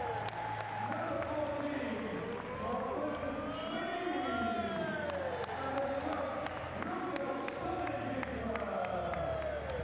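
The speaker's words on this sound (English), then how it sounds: "His coach taking the applause of the crowd" A crowd at a men's sitting volleyball bronze medal match between Germany and Russia claps and cheers steadily and loudly for a coach, a dense sustained roar of applause filling the arena throughout, with a commentator talking over it.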